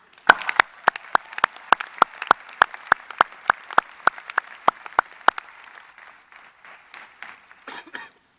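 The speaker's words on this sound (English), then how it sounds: "Give yourselves a round of applause." Graduates clap at a University of Maryland Smith School of Business graduate commencement: a run of sharp, evenly spaced claps at a brisk steady rhythm that thins into softer, scattered claps before stopping.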